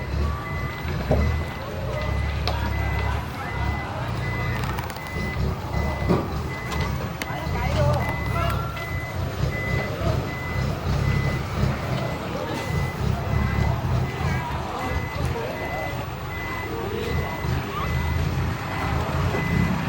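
Trailer truck reversing to turn around on a narrow road by a riverbank, its backup alarm beeping steadily in a regular rhythm over engine rumble and outdoor noise, with people talking nearby.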